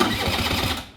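A scooter engine starts after a repair and runs briefly, a close, loud, choppy motor putter over about a second that fades out at the end.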